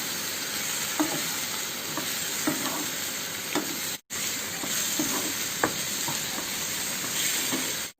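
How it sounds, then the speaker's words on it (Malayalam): Chopped bananas sauté in ghee in a pan, a steady close sizzle broken by soft scraping stirs about once a second and a couple of brief pauses. "നന്നായിട്ടൊന്ന് വഴറ്റിയെടുക്കാം."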